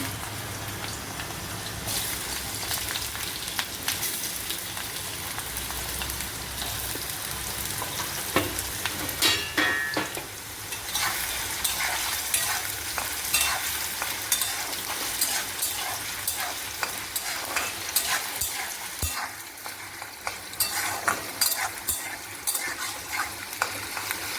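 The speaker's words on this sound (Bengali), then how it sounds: "এবার তেল গরম হয়ে গেছে, আমি এবার এগুলো একটু করে ভাজছি।" Potatoes and vegetables frying in hot oil in a home kitchen, a steady crackling sizzle with occasional louder stirring scrapes, continuous and close.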